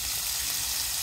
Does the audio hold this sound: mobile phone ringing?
no